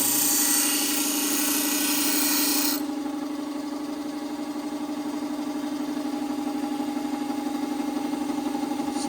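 Steady grinding of a plane maker's chisel bevel on a powered grinder, a loud broadband rasp over a strong machine hum that drops to a quieter, continuous whir after about three seconds.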